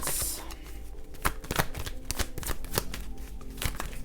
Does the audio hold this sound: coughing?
no